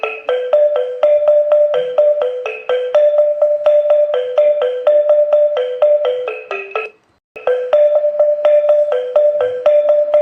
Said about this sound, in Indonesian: Ini adalah suara alat musik cetik